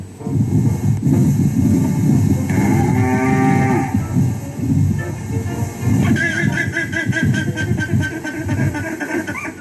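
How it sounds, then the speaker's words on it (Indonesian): A water buffalo lows loudly and repeatedly, long drawn-out calls close by over a steady outdoor rumble. "Mungkin ia menganggap suara yang dikeluarkan kerbau itu lucu"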